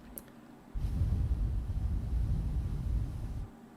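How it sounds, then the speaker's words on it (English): Soft breath blown gently into a Fifine T669 microphone fitted with wind protection, a single sustained low rumbling gust lasting about three seconds after a brief quiet start, close and steady, with no speech. "Now I will gently blow into the microphone."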